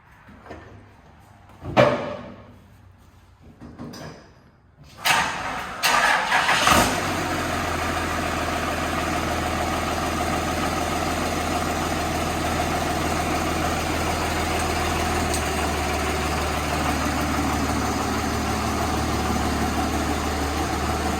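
A Cummins diesel swapped into a 1955 Ford F100 truck cranks over and fires up, then settles into a steady, loud rumbling idle close by, with a few brief revs before it evens out.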